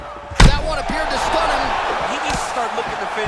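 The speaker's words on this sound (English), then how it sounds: "he lands a huge kick here" A single heavy impact thump lands early as a huge kick connects in EA Sports UFC 4, then a steady crowd roar and a commentator's voice carry on beneath it.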